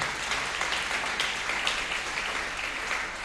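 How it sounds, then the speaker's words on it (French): A church congregation applauding, dense continuous clapping from a large crowd that holds steady and loud with no letup across the whole stretch. "Acclamons pour la parole de Dieu."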